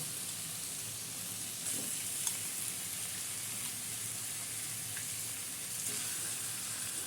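Half a kilo of chicken fries in a pan for doi chicken, giving a steady, soft hiss and sizzle throughout with faint stirring scrapes and no talk.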